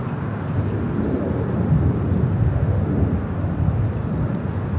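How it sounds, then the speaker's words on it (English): Boeing 787 Dreamliner jet airliner at Los Angeles International Airport, a steady broadband engine roar with low rumble, sustained and fairly loud throughout without a clear rise or fade, no talking over it. "Dreamliner heading to Tel Aviv."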